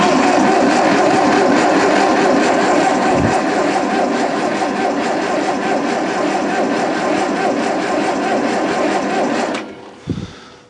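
A Little Grey Fergie tractor engine with a starting problem turns over and runs in a steady, loud, dense rattle for about nine seconds, then cuts out abruptly, leaving a brief thump and quiet.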